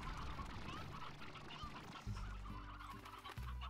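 A roostro, the chicken-like creature in the game Slime Rancher, clucks and squawks in a busy, continuous mix of fowl calls over a low rumbling game background, with no talk over it.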